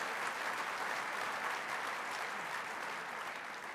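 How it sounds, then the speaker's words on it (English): An audience at a 2015 State of the City address breaks into sustained applause, a soft, even wash of many hands clapping that continues unbroken with no one speaking. "Yes, I think that deserves a round of applause."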